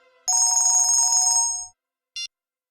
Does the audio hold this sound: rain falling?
no